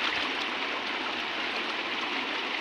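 Floodwater from heavy monsoon rain rushes over a new bridge near Kirlos village in Malvan, Sindhudurg, a steady, loud, continuous roar of flowing water with no voices.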